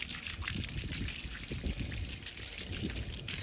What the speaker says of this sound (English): So we're just gonna rinse it off with the hose.